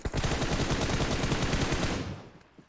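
Gunfire in a PUBG esports finals match on the Sanhok map, heard as a dense burst of rapid shots that lasts about two seconds and then fades off.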